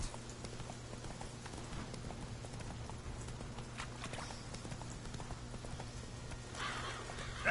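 Roach, a horse in The Witcher 3, trots along with steady, even clip-clop hoofbeats at a moderate level over a constant low hum.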